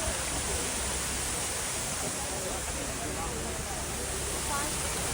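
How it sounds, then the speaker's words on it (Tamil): Steady broadband rush of falling water splashing nearby, continuous and even throughout, like spray from a waterfall in Salalah, Oman. "அங்கே தண்ணி ஊற்றுதா, இங்கே சாரல் அடிக்குது அப்படியே."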